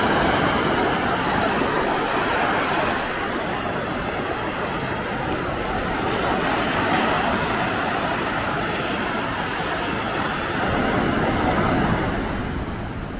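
Ocean waves breaking on the shore at Maspalomas, Gran Canaria, on a morning with fishing boats offshore, a continuous broad roar of surf with slowly swelling, overlapping washes and no voices.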